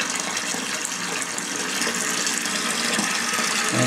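Water rushes steadily into a toilet tank through the fill valve, a constant loud hissing gush that runs unbroken from start to finish with nothing else audible.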